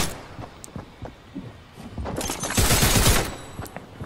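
Fortnite gunfire crackles in a burst of shots at close range, building to a dense, loud volley near the end, with no one talking.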